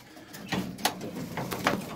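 Pigeons coo in several soft, rounded calls at irregular intervals, close by over a quiet background.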